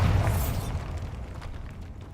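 Bombarda spell explosion inside a cave in the video game Hogwarts Legacy: a single loud boom right at the start that rumbles and fades away over the next two seconds.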